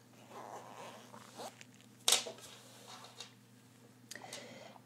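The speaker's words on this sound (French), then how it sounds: "Maintenant je vais ouvrir mon zip." An invisible zipper is opened on a sewn fabric skirt: one short, sharp zipping rasp midway, framed by faint fabric rustles and small clicks in a quiet room.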